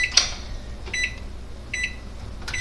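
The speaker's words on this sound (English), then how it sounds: "then you put it in the microwave for 1 minute and 30 seconds" Microwave oven heating a bowl of ramen noodles, with a steady low hum and a few faint high electronic beeps spread across the short stretch, nearby and fairly quiet, with no voices.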